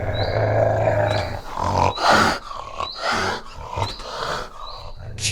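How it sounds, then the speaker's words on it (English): A cheetah gives low, rasping growls and grunts in several harsh bursts, close and loud, over a rumbling background. "Cheetah"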